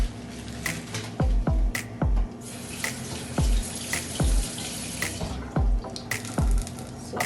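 Tap water runs over fresh thyme as it is rinsed at a kitchen sink, a steady splashing stream broken by repeated soft thumps and drips nearby.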